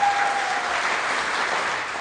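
Audience applause for a pitch group at a youth business challenge, a dense steady burst of clapping from a room of people, fading slightly at the end.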